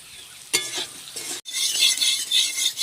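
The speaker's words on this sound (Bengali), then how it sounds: "ঘিটা দিয়ে একটু নেড়ে চেড়ে নিলাম" Ghee being stirred in a wok with a spatula, a close, bright sizzle broken by a scraping stir near the start and a brief cutoff before a louder, continuous frying hiss resumes, no voices.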